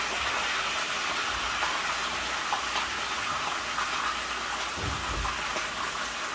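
A corner of a fish dipped into hot frying oil, for Puerto Rican fried red snapper, gives a steady, loud, rain-like sizzle and hiss that fills the whole stretch, with a brief low bubbling thump partway through.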